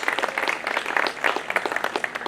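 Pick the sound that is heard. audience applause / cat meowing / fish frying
audience applause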